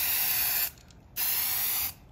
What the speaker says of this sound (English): because you can really hear the increased pressure and see it's putting more paint on, but a finer, the droplets are smaller.